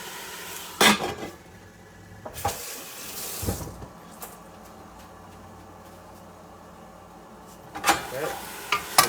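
Tomatoes are tipped into a pot of sizzling squash and lentil soup and stirred, with scraping and clattering bursts over a low background sizzle and a quieter stretch in the middle.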